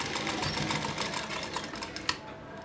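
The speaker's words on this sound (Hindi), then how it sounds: "देखिए किस तरह से सिलाई लगानी है।" Sewing machine running a straight seam to stitch elastic inside folded cloth, a continuous rapid clatter heard up close that ends with a small click near the finish.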